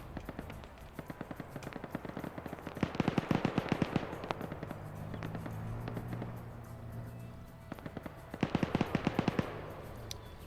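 Video game combat with rapid bursts of automatic gunfire crackling in quick strings. Grenade blasts and heavier thumps join in, and the whole exchange sounds fairly distant and faint, with a low engine hum running underneath.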